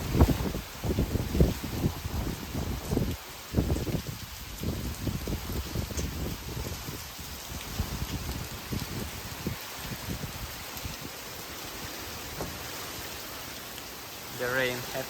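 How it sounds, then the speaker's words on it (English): Heavy rain pours down in West Bali, a steady broadband hiss of drops on surfaces, loudest at first and then easing into a constant wash. "The rain happened, very big rain."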